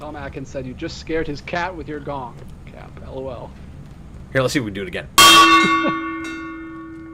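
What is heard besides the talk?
gong being rung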